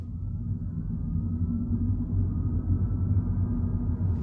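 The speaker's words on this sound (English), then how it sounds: "Spaceship noise is back." Electric motor of a 2022 Mini Cooper SE heard from inside the cabin, a steady low hum and rumble that holds constant throughout with no talk, close and moderately loud.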